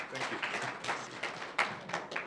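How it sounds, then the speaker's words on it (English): Audience applause at a fintech event on South Africa's digital payments, a scattered, modest patter of hand claps at moderate distance with no talking over it. "please everyone give a round of applause for good Sir Umpo"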